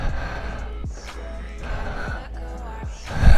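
A voice imitates slow, low breathing from a sleeping little girl: soft breathy exhalations in a steady rhythm of about three breaths, close and quiet, ending in a brief louder gust.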